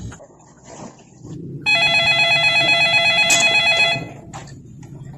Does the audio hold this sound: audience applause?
no